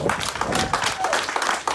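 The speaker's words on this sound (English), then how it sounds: "Everybody give a round of applause for everybody that's here." A community gathering crowd at a Black Lives Matter event in Rhode Island breaks into clapping and applause, a short loud burst of dense claps mixed with cheering voices.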